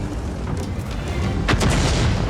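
Booming tank cannon shots in a World of Tanks-style game cut through a steady mechanical rumble, with one sharp, loud blast about midway followed by a short echoing tail.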